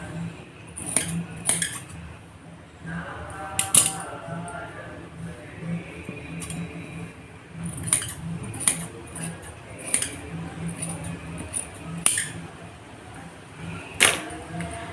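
Cloth being cut for a blouse belt, a series of sharp metallic scissor snips and clicks spread irregularly across the span, with a voice talking quietly in between.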